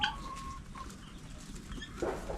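An original Darag rooster gives short clucks and calls at a Filipino farm that keeps roosters and roasts lechon, the brief sounds fairly close over a low background hum.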